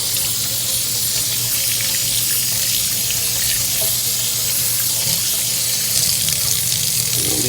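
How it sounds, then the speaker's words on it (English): Water from a tap runs steadily into a sink during hand washing before a blood glucose test, a continuous close hiss that holds throughout with no voices. "Leave the water going."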